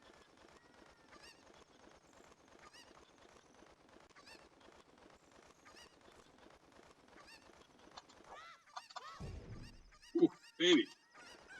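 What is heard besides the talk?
chicken clucking in Ocarina of Time video game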